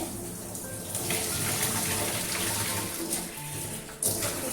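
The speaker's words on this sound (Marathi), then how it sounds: "तर डाळ धुवून घेते मी" Lentils (dal) being rinsed in water, swished and poured in a steady, continuous wash close by, with no talk.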